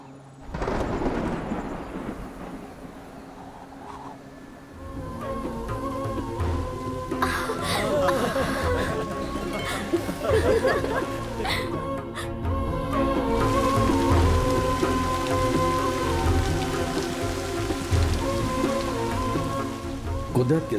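Steady heavy rain pours throughout while thunder rumbles and cracks, loudest in the middle, over a low continuous roar.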